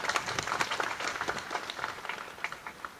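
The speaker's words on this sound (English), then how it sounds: "Give him another hearty clap." Scattered audience applause rises at a legal gathering with the Senior Bar Council chairman present, a short burst of moderate claps fading gradually.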